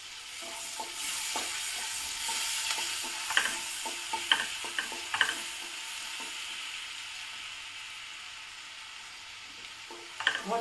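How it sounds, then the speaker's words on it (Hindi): Garlic and garlic leaves fry in a pan for a white sauce pasta, a steady close sizzle broken by repeated stirring scrapes and taps from a utensil, with no talking. "अब हम इसमें थोड़ा सा गार्लिक डालेंगे"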